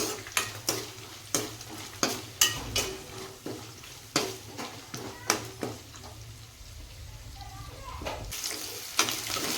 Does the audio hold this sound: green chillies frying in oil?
yes